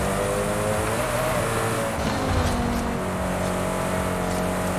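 Koenigsegg Agera hypercar engine in Forza Horizon 5, a steady, loud engine drone with layered harmonic tones holding through the whole stretch, rising briefly midway as the car works through corners.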